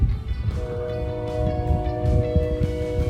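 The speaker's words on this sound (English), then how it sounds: "Iron ore train with 3 locomotives coming into Tong Price." An iron ore train with three locomotives arriving at Tom Price mine, a low rumbling engine drone with a sustained horn tone and clanking rail noise, fairly near.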